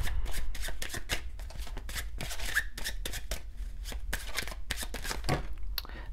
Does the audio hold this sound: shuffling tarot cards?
yes